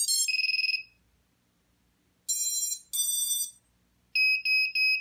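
A camera receiver kit powering on, giving a series of sharp electronic beeps and short melodic chirps in separate bursts with silent gaps, close and clear with no talking.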